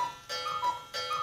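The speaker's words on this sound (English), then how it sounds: "I hear the cuckoo clock." A cuckoo clock ticks in a quiet room, with a few crisp, evenly spaced ticks heard close and clear over a faint hum.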